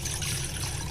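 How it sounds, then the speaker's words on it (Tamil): Water trickling steadily into a pot for porridge, a short, close, soft pour with no talking. "ஃபர்ஸ்ட் வந்து நான் இதில் 1 டம்ளருக்கு தண்ணி ஊற்றிக்கிறேன்."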